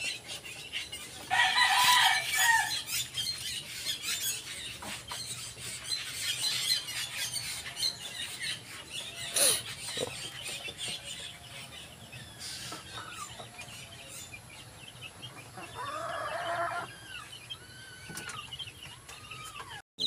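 Free-ranging wild junglefowl (labuyo) cluck and squawk in bursts around a rural yard, with a couple of louder calls standing out over steady outdoor background noise.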